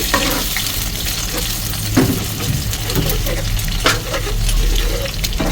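Egg frying in oil in a pan with onions fried earlier, a steady close sizzle with soft stirring scrapes and a few light clinks, no talking.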